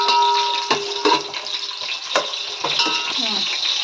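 Onions frying in a pan until brown, a continuous close sizzle broken by sharp clinks and scrapes of a spatula stirring against the pan, no talking.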